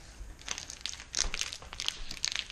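Thin plastic food packaging is crumpled and crinkled close up in a kitchen while cooking spaghetti carbonara, giving bursts of crackly rustling across the moment with no talking.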